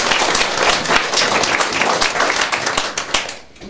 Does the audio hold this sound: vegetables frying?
no